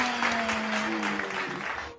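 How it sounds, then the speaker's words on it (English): Children clapping their hands together in a kindergarten classroom, a short burst of steady applause with a voice and tones sounding over it. "Clap your hands!"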